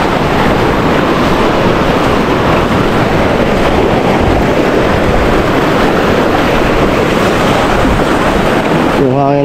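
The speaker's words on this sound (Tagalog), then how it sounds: "Yung hangin kasi yung malakas." Loud, constant roar of strong typhoon wind buffeting the microphone over rushing floodwater, unbroken throughout, with a brief tonal sound at the very end.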